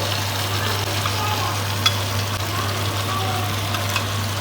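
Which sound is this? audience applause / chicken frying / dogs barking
chicken frying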